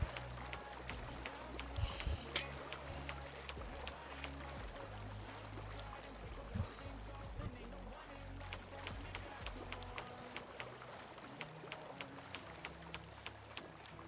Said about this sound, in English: Keep digging this away until we get enough water flowing over here